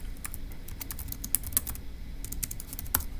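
Someone types steadily on a computer keyboard while working through a Turing Machine puzzle. Quick, uneven key clicks come close and fairly quiet, with a few louder taps and no talking.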